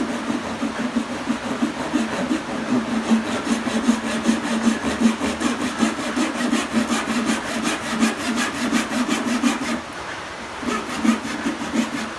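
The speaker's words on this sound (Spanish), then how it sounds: "la línea que está hacia nuestro lado izquierdo la vamos a cortar con el serrucho por el lado derecho" A hand saw cuts through wood for a half-lap joint in steady, close, loud back-and-forth rasping strokes that pause briefly near the end before starting again.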